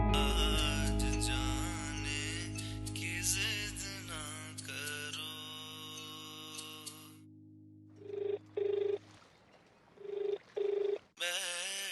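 A telephone rings in a household setting, with repeated short electronic ring bursts separated by gaps, following a stretch of music and dialogue.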